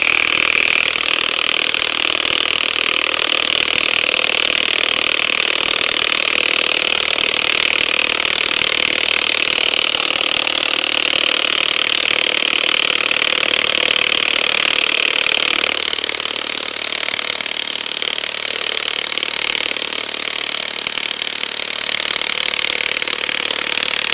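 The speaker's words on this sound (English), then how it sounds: "So I'm just gonna keep driving this one down on the Dewalt." A DeWalt DCF899 high-torque impact wrench drives a fastener in one long, unbroken burst of loud, dense hammering that holds steady for the whole stretch, with no talk.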